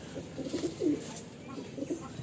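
Kalanka high-flying pigeons coo softly in a few short, low bursts nearby, with a faint murmur of voices in the background.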